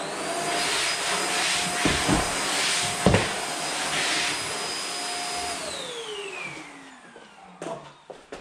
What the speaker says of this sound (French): j'ai emprunté un aspirateur, et bien forcément, hop, on va enlever les poussières